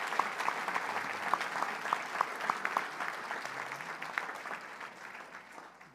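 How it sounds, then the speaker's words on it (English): A banquet audience claps together in steady, moderately distant applause that thins out near the end. "Can we give these folks a round of applause"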